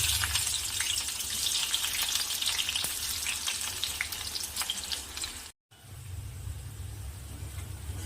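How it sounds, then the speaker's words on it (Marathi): Chopped onion fries in hot oil for a Marathi barbati bean curry, with a continuous close sizzle and crackle that cuts out briefly near the end before resuming. "तेल तापला आपण कांदा ॲड करू आधी"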